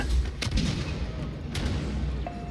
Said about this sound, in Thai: มีคนไปเหยียบกับระเบิดเราแล้วเฮ้ ตู้มไปฮะ